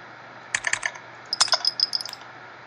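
Keyboard keys clicking in the Progressbar95 video game come in two quick bursts of crisp, rapid clacks separated by a short pause, sharp and close against a low background hum.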